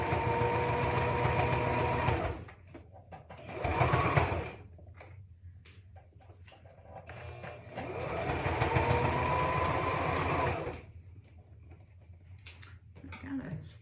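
A sewing machine stitches fabric for a child's hat in bursts of steady, close whirring, with pauses between runs while a person talks.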